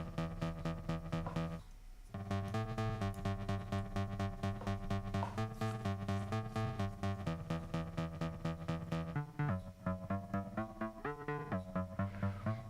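A dense electronic synth track plays with some parts shifted up an octave and others dropped an octave into sub bass, steady pulsing chords and bass with short gliding, slightly glitchy pitch slides and a brief drop-out near the start.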